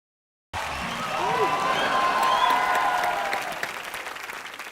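Audience applause for a guest on a TV entertainment show, a sustained, loud wash of clapping from a studio crowd that swells, holds, and slowly tapers, with voices faintly audible beneath.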